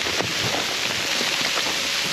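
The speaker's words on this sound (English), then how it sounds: "Not with all this rain. Or ice. You hear it, it's ice." Heavy rain mixed with ice pellets pattering steadily on a shelter during a snow blizzard, a dense continuous hiss with scattered sharper ticks and no talk.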